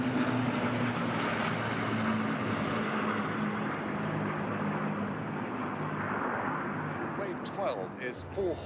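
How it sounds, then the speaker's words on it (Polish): WWII propeller warplanes, a Lancaster bomber flanked by three Spitfires and two Hurricanes, drone loudly and steadily overhead in a Platinum Jubilee flypast, a dense continuous roar throughout, with a voice speaking underneath. "Lancaster bomber flanked by three Spitfires and two Hurricanes."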